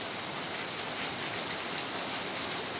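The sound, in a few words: heavy rain during Cyclone Remal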